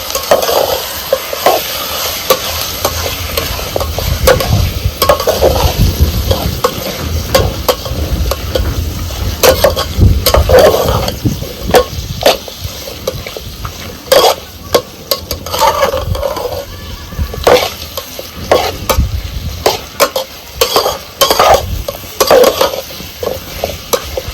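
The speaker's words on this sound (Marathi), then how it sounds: "आता चांगलं एकजीव हस्तवर हलवून घ्यायचं" Mutton frying in a pan, stirred steadily, with continuous sizzling and a spoon repeatedly scraping the metal, loud and close throughout.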